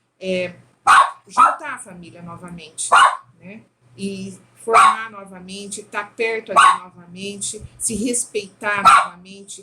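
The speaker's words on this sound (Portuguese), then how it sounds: "E desculpe o meu cachorro aqui." A dog barks repeatedly in short sharp yips, loud and close, punctuating a man's continuous speech in Portuguese throughout the clip.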